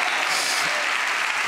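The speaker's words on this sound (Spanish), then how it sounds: "Aplaude y dígalo, yo lo creo" Steady, dense applause from a church congregation during a sermon, loud and continuous with no pauses.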